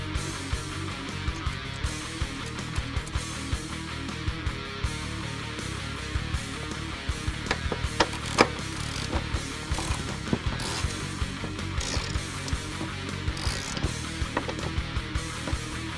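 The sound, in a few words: ratchet removing factory nuts from Mustang transmission mount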